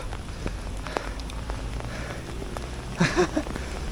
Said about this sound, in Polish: normalnie gradem nawala